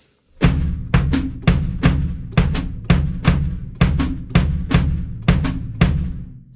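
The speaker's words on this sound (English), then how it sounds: "I play with both feet, the hi-hat and the bass drum" A steady drum ostinato: bass drum thumps and hi-hat chicks alternate in an even, repeating rhythm, close and clear with no voices.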